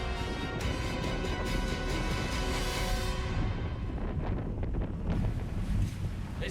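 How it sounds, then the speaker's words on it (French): Strong wind roars and buffets steadily around a boat at sea, with rushing water and waves churning beneath it, loud and continuous throughout. "le fort vent provoque de belles vagues et le bateau pourrait heurter un pilier."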